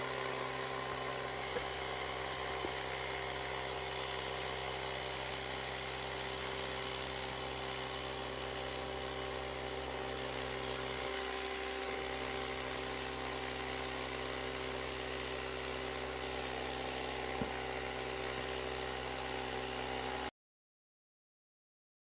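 A Ryobi cordless inflator pump runs steadily for about twenty seconds, filling an Alpinestars Tech-Air 5 airbag motorcycle jacket, a constant close motor hum with a slight pitch dip midway before cutting off.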